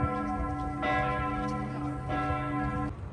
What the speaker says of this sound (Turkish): Şu anda da çan çalıyor. Burada kilisede.